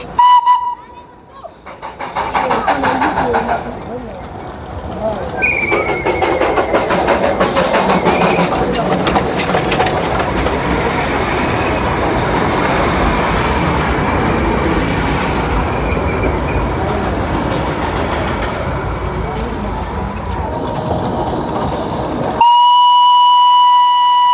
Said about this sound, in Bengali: চলে গেল বাতাসিয়া লুপ থেকে একটা রাউন্ড দিয়ে টয় ট্রেন আবার নিচের দিকে বেরিয়ে গেল।